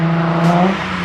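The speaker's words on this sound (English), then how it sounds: "Bro started revving." A nearby car engine revs loudly, its pitch climbing and then easing in a brief, throaty burst.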